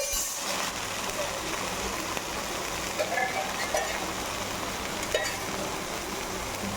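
A moong dal pancake sizzles and fries in a pan just after being flipped, a steady broadband crackle with a few scraping touches, close and moderately loud with no talk.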